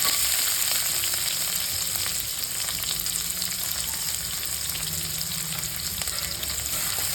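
Cumin, curry leaves and onion fry in a hot pan, giving a steady, dense sizzle that stays even and close throughout with no voices.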